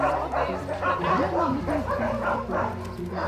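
Dogs at an animal shelter bark and yip in quick overlapping bursts, fairly close, with whimpering mixed in while people talk over the noise.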